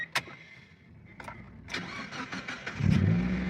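A 1999 Mazda Miata, just fitted with a new fuel pump, cranks briefly and catches, the engine firing up and settling into a steady rumbling idle, close by with no talking.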